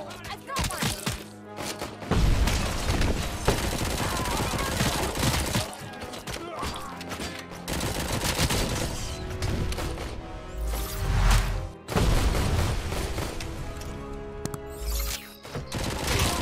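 Bursts of gunfire and crashing impacts in RoboCop: Rogue City, loud irregular volleys separated by short lulls, with a voice talking at times over the action.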